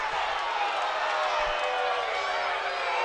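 College baseball crowd jeering at the plate umpire, a steady dense roar of many voices filling the ballpark throughout, with no breaks.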